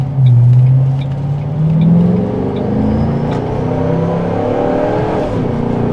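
A 2007 Ford Mustang Shelby GT drives past with a deep rumbling exhaust, the engine note rising and falling as it approaches and moves away, loud and fairly near.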